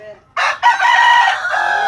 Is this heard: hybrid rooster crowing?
yes